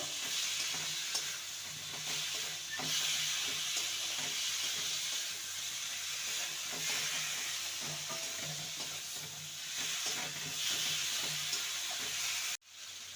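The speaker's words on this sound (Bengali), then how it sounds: "দিয়ে দেবো ভেজে রাখা আলু আর পটল ভালো করে আবারও মশলার সাথে কষিয়ে নেব" Fried potato and pointed gourd pieces cook again with spices in a pan, giving a soft, continuous sizzle with faint stirring scrapes throughout. It stays fairly quiet and close and cuts off abruptly near the end.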